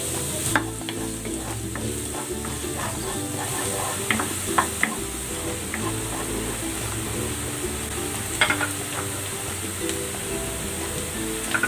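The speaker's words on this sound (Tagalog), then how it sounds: "Igigisa ko na po. Lalagay ko na rin tong sibuyas." Onions sautéing in cooking oil for kare-kare sauce give a steady, close sizzle, with scattered clicks and scrapes from stirring throughout.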